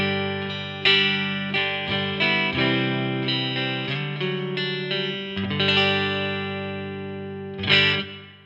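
Electric guitar played on a clean tone through a 6L6 amp, ringing chords and single notes strummed at a steady pace with long sustain, close and alone.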